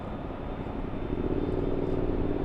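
A motorcycle engine drones steadily at a distance near Los Angeles airport (LAX), swelling slightly louder partway through as it passes somewhere below.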